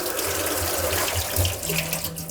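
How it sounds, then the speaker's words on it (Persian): Tap water runs steadily over cut potatoes in a colander, a continuous close splashing hiss with no talk over it. "و یک مقدار روی اون رو آب بریزید"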